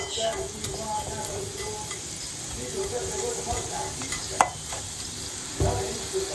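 Eggs and potatoes frying in oil in a pan, a steady close sizzle running throughout with a couple of brief clanks from utensils against the pan.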